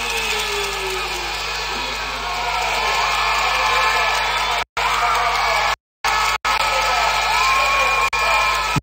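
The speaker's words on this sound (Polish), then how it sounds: "Sprawiła wielką radość tłumowi kibiców." A large crowd of fans cheers at the finish of a women's 10 km classic cross-country ski race in Szklarska Poręba, a loud, sustained roar with whoops and shouts, broken by brief dropouts.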